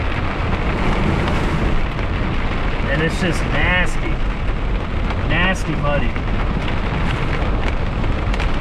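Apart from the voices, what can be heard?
hail falling during a storm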